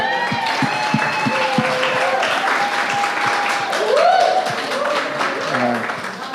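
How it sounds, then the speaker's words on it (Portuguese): A conference audience at a Vision Day 2022 event gives a sustained round of applause that swells and fades across the room, with people talking and voices rising over the clapping. "uma salva de palmas"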